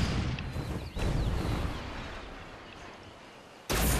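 Deep, rumbling bomb explosions from a zeppelin in the Toy Soldiers war game roll out in heavy, sustained booms, fading over a few seconds before another loud blast hits near the end.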